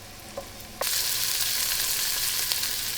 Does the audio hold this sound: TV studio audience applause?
no